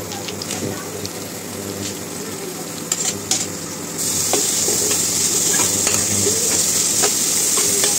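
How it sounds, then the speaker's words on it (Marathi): Chopped onion tipped into hot oil with sautéed garlic-ginger paste for chole, then stirred; a quieter sizzle with a few clinks gives way to a loud, steady frying hiss close by. "लसूण आल्याची पेस्ट छान अशी परतल्यानंतर आपल्याला आता यामध्ये घालायचा आहे आपण चिरून घेतलेला कांदा"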